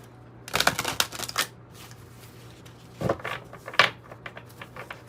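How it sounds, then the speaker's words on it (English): Tarot and oracle cards shuffled in two short bursts of crisp riffling, close up, separated by a quiet pause. "Let's just do another shuffle"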